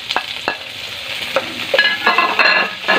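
Tomatoes being sautéed in a pan, a steady sizzle with several sharp scraping stirs of a utensil throughout, close and fairly loud, with no talking.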